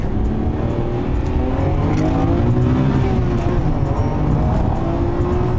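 A Nissan Skyline GT-R R34 V-Spec II Nür held at full throttle through a corner, its engine a loud, steady, droning roar that rises and falls slightly as it pulls, recorded close from inside the car.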